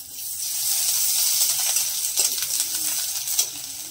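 Garlic paste and onion fry in hot oil in a home kitchen, giving a steady close sizzle with occasional stirring clicks and scrapes and no voices.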